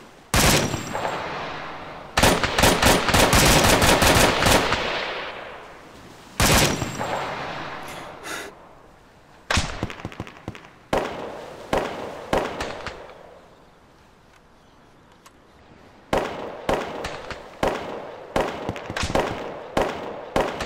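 Gunfire in the Arma 3 video game, with loud close bursts and single shots repeating irregularly, some sustained volleys and quieter gaps between, heard alone without voices.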